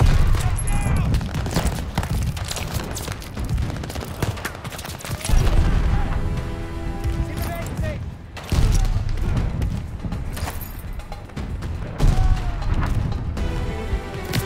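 Bursts of rapid gunfire and booming shots in the Call of Duty Vanguard campaign, loud and dense in several volleys separated by brief lulls, with a player shouting over parts of it.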